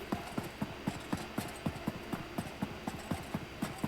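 A horse's hooves clip-clop steadily in a video game, an even, quick rhythm of sharp hollow knocks about four per second, moderately close and heard alone without talk.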